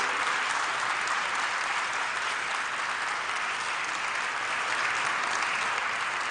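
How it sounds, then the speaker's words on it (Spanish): Sustained audience applause fills a decoration ceremony in Venezuela honoring martyrs, steady dense clapping throughout with no talk over it. "para quien pido un gran aplauso"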